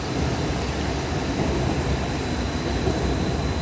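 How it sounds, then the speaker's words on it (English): A Tyne and Wear Metro train pulling into Tynemouth Station in the morning, heard as a steady, continuous rumble that fills the platform, with no talk over it. "Oh, there's another train incoming."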